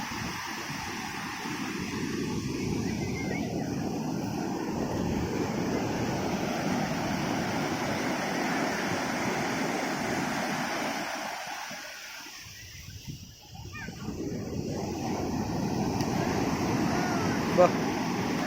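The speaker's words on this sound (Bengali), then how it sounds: "দেখছো ঢেউ কত সুন্দরভাবে আসছে, ঢেউ দেখে মন ভরে যাচ্ছে।" Sea waves at Puri beach roll in as a steady broadband wash, mixed with wind buffeting the microphone. The roar dips briefly near the end before swelling again, and voices can be heard faintly.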